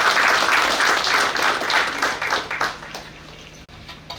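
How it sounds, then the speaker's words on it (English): Audience applause at a naval war college graduation ceremony, a dense crowd of clapping hands that stays loud for several seconds, then thins and fades into scattered claps near the end. "may we appreciate him with a round of applause"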